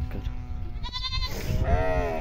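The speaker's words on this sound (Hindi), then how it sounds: "टेडी बकरी एक छोटा बच्चा" Young goat kid bleating several times in a short, quavering cry, close by amid faint farmyard background noise and a voice at a distance.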